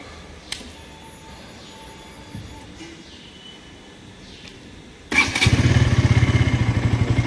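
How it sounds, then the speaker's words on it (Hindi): Quiet background with a faint click, then a motorcycle engine suddenly fires up and settles into a loud, steady, throbbing idle. "बाइक का साउंड भी बढ़िया आता है"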